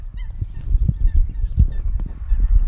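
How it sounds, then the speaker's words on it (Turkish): Geese or ducks honking at a dam lake campsite, a close series of loud nasal honks in irregular bursts over a low outdoor rumble. "Onun dışında şu ördek sesi mi ne sesi"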